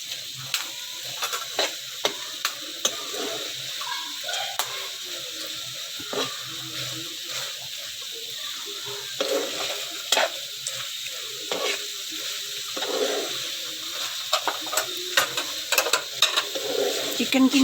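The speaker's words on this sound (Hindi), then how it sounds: "बस इसको 5 से 6 मिनट हम हल्का सा भूनेंगे तो फिर हम इसे नीचे उतार लेंगे" Chicken boti pieces fry lightly in a spoonful of ghee, giving a steady soft sizzle with frequent stirring and scraping clicks against the pan, fairly close and continuous throughout.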